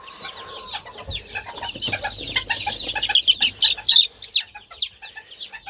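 Young pigeon chicks in a loft give a busy run of high, squeaky peeps and chirps, close and overlapping, growing denser and louder toward the end.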